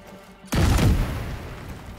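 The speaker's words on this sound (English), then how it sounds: "Firing on targets." A sudden burst of heavy gunfire in the video game The Division 2 erupts after a quiet moment and continues as rapid, loud, rolling shots with a booming tail.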